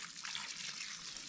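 Water rushing out of a large village pipe under strong pressure on an orange farm, a steady broad hiss and gush filling the short stretch without a break, close and loud.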